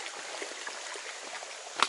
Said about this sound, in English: these creeks and stuff, especially at night when you're in your tent, all that little water